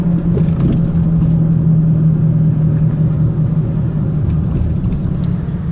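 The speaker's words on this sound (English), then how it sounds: "Look at this traffic." Road traffic passing in a busy South Florida area near Aventura, a continuous low engine rumble of cars rolling by at close range, loud and steady without voices.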